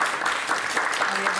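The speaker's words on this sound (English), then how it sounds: "Everyone give her a round of applause" An audience applauding in a kitchen show studio, a dense, even burst of clapping that holds steady and fairly loud throughout.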